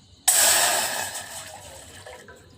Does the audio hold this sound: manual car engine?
no